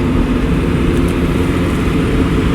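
A 12-valve Cummins diesel truck climbs a hill under load, its engine giving a steady, loud, close low drone with no breaks or shifts.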